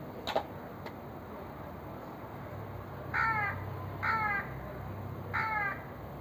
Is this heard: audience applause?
no